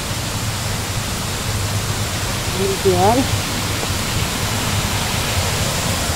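Water rushes in a steady, loud broadband hiss close to a waterfall in Laguna, with a brief spoken word heard partway through.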